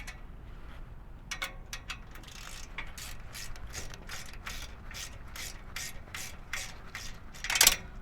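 Preset torque wrench tightening bolts while assembling a VelociRAX MAX vehicle rack, a quick series of close ratcheting clicks at a steady rhythm, ending in a louder snap, with no talk.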